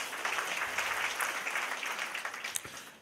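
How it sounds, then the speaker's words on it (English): Audience at a San Mateo County convention and visitors bureau luncheon breaking into a round of applause, a soft, steady patter of many hands heard at some distance and fading toward the end. "he still deserves a round of applause"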